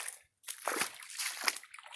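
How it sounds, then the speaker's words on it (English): Soft sloshing and trickling water close by on a boardwalk, faint and uneven, as water runs through a filter and dribbles into a container. "we've got our water filtering here."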